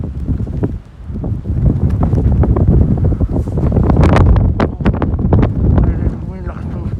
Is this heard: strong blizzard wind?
yes